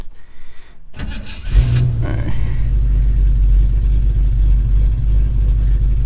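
A 1967 Ford Mustang, just back from a rear main seal replacement, cranks briefly and catches, then settles into a loud, steady, slightly rough idle heard up close.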